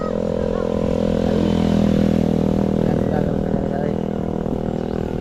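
A motorcycle engine rumbles loudly nearby, a steady throaty drone that swells slightly then eases as it passes.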